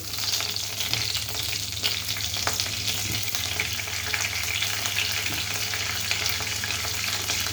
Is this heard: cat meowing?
no